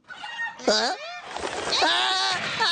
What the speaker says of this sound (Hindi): ये मुर्गा तो वाकई कमाल का है।